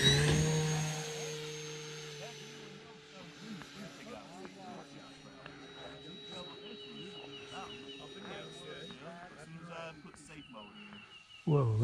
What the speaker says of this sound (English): First flight of the day for the air tractor.